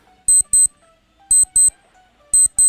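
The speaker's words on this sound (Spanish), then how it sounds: "Una alarma. Me he puesto una alarma para terminar el stream en hora." An alarm set to end a live coding stream beeps in pairs of bright electronic tones, three double-beeps spaced about a second apart, loud and alone.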